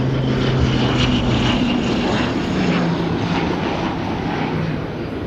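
A Jetstar airliner at Christchurch airport gives a steady, continuous engine roar at fairly close range, holding an even level throughout with no voices over it.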